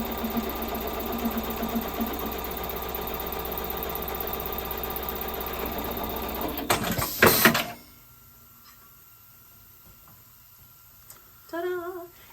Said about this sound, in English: I'm going to very carefully place your buttonhole underneath here and watch what happens